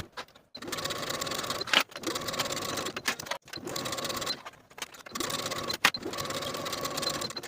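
Domestic sewing machine stitching blouse yoke shoulder seams, running in several steady buzzing bursts separated by brief pauses, close and clear with no talking.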